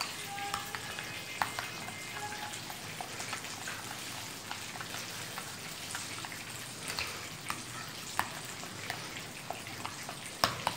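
Chicken fillets for a zinger burger fry in a pan, giving a steady, close crackling sizzle with scattered sharper pops, continuous throughout and with no one talking.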